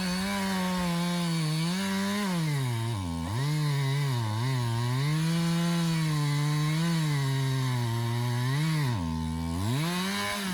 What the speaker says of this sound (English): it would help to sharpen your chainsaw first